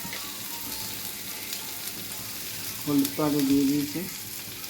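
Bitter gourd fries in a little oil with turmeric, dried red chilli and chilli powder, producing a constant close sizzle throughout while someone speaks briefly near the end.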